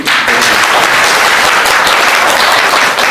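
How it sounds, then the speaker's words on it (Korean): An audience at a Korean association's annual general meeting breaks into loud, dense applause that holds steady for a few seconds before ending abruptly. "다시 한번 박수를 드립니다."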